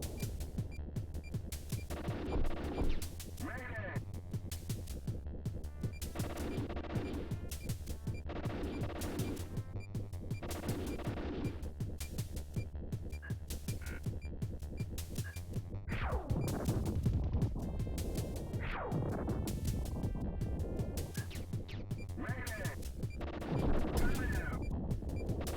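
Repeated bursts of rapid gunfire from the Air Cavalry helicopter video game, rattling in regular volleys throughout, with occasional heavier crashes and game effects mixed in.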